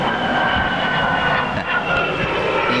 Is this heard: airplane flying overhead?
yes